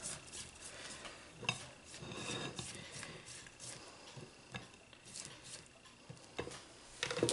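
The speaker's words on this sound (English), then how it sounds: "we're gonna scrape down our bowls" Spatulas scrape down mixing bowls in a home kitchen during Thanksgiving baking with chocolate, giving faint, irregular scraping, tapping and rubbing strokes at close range with no talk.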